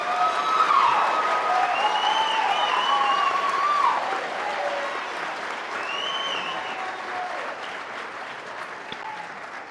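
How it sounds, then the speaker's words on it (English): A crowd at a fire academy graduation ceremony applauds steadily, a dense wash of clapping with a few whistles or cheers rising over it near the start, fading slightly toward the end. "How about a round of applause for class 56?"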